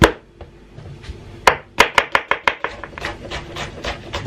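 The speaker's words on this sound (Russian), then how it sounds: "вначале я немножко срежу самый жирок, отправлю на сковородку" A knife trims fat from a raw chicken thigh on a board with a quick run of close, crisp cutting taps, some scattered and then a rapid rhythmic burst, with no talking.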